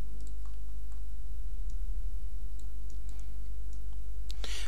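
A computer mouse clicks sparsely and faintly at an editing desk during video editing, a few scattered sharp ticks over a quiet, steady background hum.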